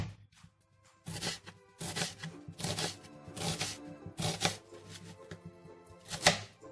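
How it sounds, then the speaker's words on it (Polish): A knife chops onion finely on a board for a salmon dish, making a series of crisp, evenly spaced strokes in bursts of two or three, close and fairly loud with no voices. "Cebulkę kroimy drobno."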